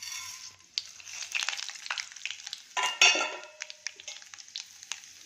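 Mustard seeds, chana and urad dal, cumin, fenugreek and curry leaves hitting hot oil for bisibele bath, a close burst of crackling sizzle with spattering pops and metal stirring clinks.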